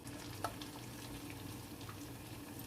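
Walnut falafel fry in a pan of hot oil, giving a soft, steady sizzle and crackle with a few small pops, heard alone and fairly quiet.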